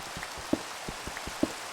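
Rain in the video game Minecraft, a soft steady patter with scattered individual drops tapping over a continuous hiss, fairly quiet and with no talking.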